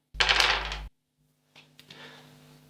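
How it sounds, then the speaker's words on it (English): Six dice thrown for a tabletop wargame roll, a loud close clatter that stops abruptly, followed after a short silence by a fainter rattle and settling, with no talk. "we have managed to roll on our 6 dice"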